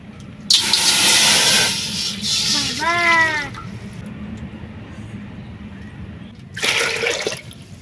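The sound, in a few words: water poured into a cooking pot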